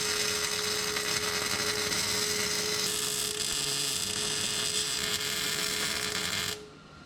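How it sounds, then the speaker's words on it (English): A hinge is welded onto a homemade dump bed for a mini dually work truck, giving a steady buzzing, crackling hiss with a constant electrical hum beneath it, close and continuous for about six and a half seconds before it cuts off. "Little no-look welding right there."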